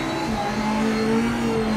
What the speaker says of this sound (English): you talking about the launch for the hypercars?